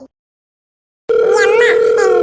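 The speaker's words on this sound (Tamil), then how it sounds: "இப்பதான் ரிங்கு போகுது" A steady, unbroken ringing tone on a phone call begins after about a second of silence and holds to the end, with a voice talking over it.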